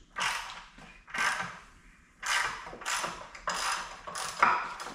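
A ratchet on an extension loosens a 12 mm anode bolt on a 2023 Yamaha 200 SHO outboard, producing five bursts of fast close clicking, each about a second long with short pauses between.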